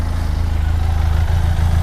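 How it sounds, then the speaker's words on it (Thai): A 2019 Benelli TRK 502X motorcycle engine idles smoothly and steadily, a low even putter with no revving, close by. "เสียงเดินเบาเนียนมากๆนะครับผม"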